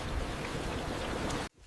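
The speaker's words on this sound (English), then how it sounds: "The rain was falling softly" Soft rain falls as a steady, even hiss for over a second, then cuts off abruptly into near silence.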